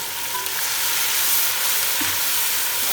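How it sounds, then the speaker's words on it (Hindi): Onions frying in oil in a pan for chicken haleem, a steady close sizzle and crackle with faint stirring, continuous and fairly loud with no talking. "प्याज को करते हैं ऑयल के अंदर फ्राई"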